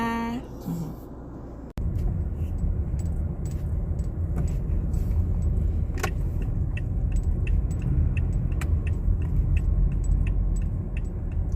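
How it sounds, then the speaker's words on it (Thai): Car interior while driving to a veterinary clinic, a steady low engine and road rumble close around, with a door-like thud near the start and scattered small clicks and rattles over it. "เดี๋ยวคุณตาขับรถไปคลินิกก่อนนะคะ"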